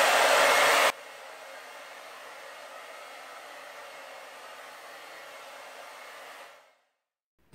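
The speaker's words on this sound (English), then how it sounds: "dry the product into your hair, again using a brush and the hairdryer" A handheld hair dryer blows steadily while keratin treatment product is dried into hair with a brush, a louder burst at first settling into a continuous close whoosh before it cuts off.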